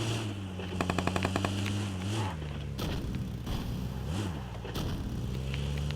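Rapid automatic gunfire bursts and single shots sound in a multiplayer shooter video game, loud and close, over a steady low engine drone and game effects.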